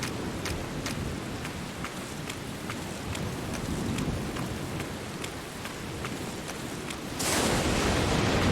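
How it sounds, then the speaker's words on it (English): Pouring rain and thunder in the video game No One Lives Under The Lighthouse: a steady, heavy downpour hisses over low rumbling thunder, and the rain surges louder near the end. "No, this is pouring rain."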